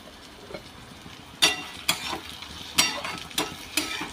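Tomatoes and fried peanuts sauté in a pan for upma, a soft low sizzle broken by about five sharp spatula scrapes and clinks against the metal, close and fairly quiet, with no talk.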